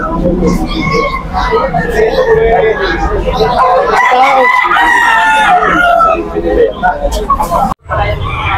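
A young rooster crows loudly and close by amid a chicken hatchery setting, with several people talking over and around the call throughout.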